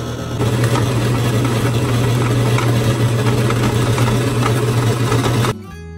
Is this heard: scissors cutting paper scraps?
no